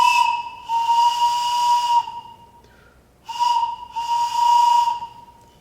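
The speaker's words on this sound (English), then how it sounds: "So I have these cool train whistles, and they're fun to blow" A small toy train whistle blown in two pairs of bright, steady hooting blasts with a short pause between the pairs, loud and close, with an airy hiss under each note.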